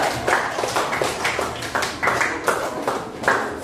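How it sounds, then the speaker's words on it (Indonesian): A classroom audience claps for a student group, the claps landing in loose rhythmic bursts at steady volume, fairly close and with no talk over them. "kita kasih tepuk tangan dong untuk kelompok 2"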